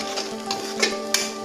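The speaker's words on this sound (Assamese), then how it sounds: "এইখিনি মই 2 মিনিটমান সময় ভাজি ল'ম" Ginger, garlic and chilli paste frying in a wok, with a quiet sizzle and a few soft spatula scrapes and taps as it is stirred.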